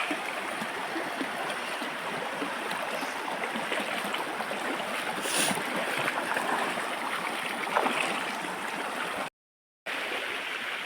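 A river flows steadily nearby, a constant rushing wash of water with faint gurgles, briefly cutting out near the end.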